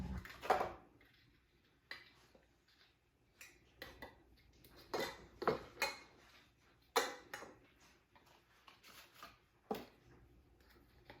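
New metal canning jar lids are handled near a kitchen counter while canning chicken chunks, giving a series of faint, sparse clinks and taps, close but quiet, with no speech.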